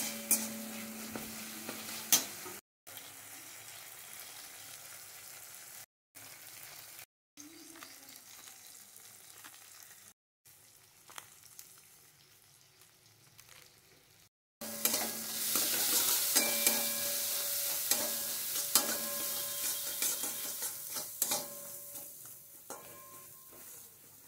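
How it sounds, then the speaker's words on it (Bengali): Spice paste with salt, turmeric, cumin, coriander and Kashmiri chilli powder being stirred and sautéed in a pan for a fig dish, a steady close sizzle with spoon scrapes, several brief cuts of silence, then louder, brighter frying in the second half. "সমস্ত মশলা দিয়ে ভালো করে কষিয়ে নিয়েছি।"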